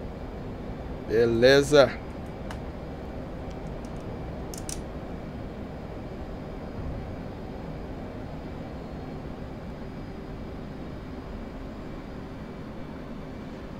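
An F/A-18C Hornet jet engine running at full power in the DCS World flight game sends out a steady, even roar throughout. A voice speaks briefly near the start over the drone.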